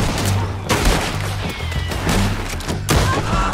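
Gunfire in the Red Dead Redemption 2 video game: a dense sequence of loud booming shots and thuds with echoing tails, continuous over several seconds.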